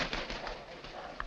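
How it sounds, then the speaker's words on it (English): A tame raven calls inside a pub in a 1943 Sherlock Holmes film scene, a brief soft call over the room's steady background murmur. "Hello, a tame raven."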